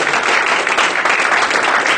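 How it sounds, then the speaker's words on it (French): Congregation applauding during a French-language church worship service, a full, dense burst of clapping at a loud, steady level for about two seconds, with no voices over it. "Applaudissons le Seigneur."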